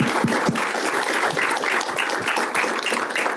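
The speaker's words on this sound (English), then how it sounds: "Let's all give them a round of applause." An audience at a cognitive neuroscience symposium claps steadily and warmly for a panel, a dense continuous patter of applause that holds at an even level throughout.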